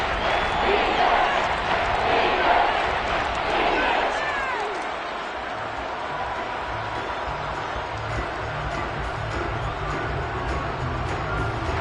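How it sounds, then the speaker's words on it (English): Crowd noise inside the Dome during a Panthers vs Saints football game, a continuous roaring wash of many voices and scattered claps, loudest early then settling slightly lower but sustained. "The crowd here in the Dome making things difficult."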